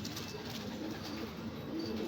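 Pigeons coo softly inside a loft, low murmuring calls repeating under a constant hiss of room noise, fairly faint and without any voices.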